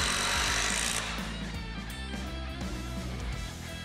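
A power driver sinks 3-inch exterior grade screws through a patio roof beam into its post, a loud, close whine that starts at full strength, then settles into a grinding run before stopping.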